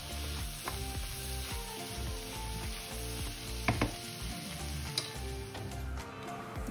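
Cabbage, carrot and broccoli stew in butter in a pan with a constant low sizzle and bubbling, a few faint clinks and taps rising over the steady frying noise.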